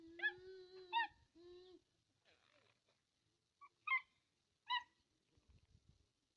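A dog whimpers and whines in high, wavering cries, a few short yelps spaced apart, close and fairly quiet against a silent background.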